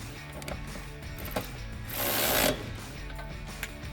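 A 13mm wrench and socket tighten the bolts on a Jeep Wrangler JL side step bar, making ratcheting clicks and metallic mechanical rattling, with a brief louder whirring burst midway.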